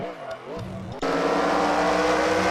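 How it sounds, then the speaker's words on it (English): Late model race car engines in the NR2003 racing game fire up at Myrtle Beach, a sudden loud, steady, buzzing roar that cuts in after a second, with a voice briefly heard before it. "The cars are fired up."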